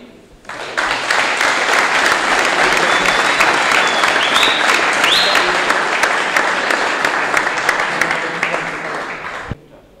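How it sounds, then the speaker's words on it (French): A crowd at a Sainte-Barbe celebration for the firefighters of Saint-Jean-Pied-de-Port applauds, a loud sustained wall of clapping that starts abruptly, holds steady for several seconds, then tapers off, with a faint whistle partway through. "On peut les applaudir?"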